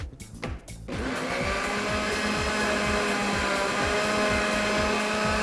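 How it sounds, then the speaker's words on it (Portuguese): After a few brief clicks and handling sounds, an electric blender whirs to life and runs loudly and steadily, its motor droning without pause. "Vamos bater isso aqui. A minha tampinha do liquidificador tá aqui"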